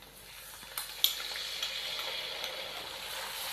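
Chopped tomatoes are stirred into ginger garlic paste frying in a pan, a steady close sizzle with a few scraping spoon knocks and clinks near the start.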